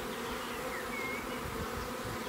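Honeybees buzz in a dense, continuous drone around a hive, close and steady with no voices.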